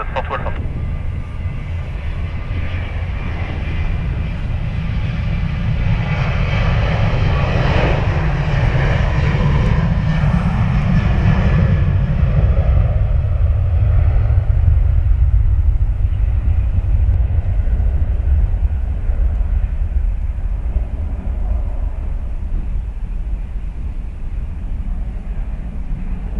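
Jet airliner engines at Dublin Airport, a loud, steady low rumble that swells in the middle and slowly eases off, with air traffic radio chatter over it.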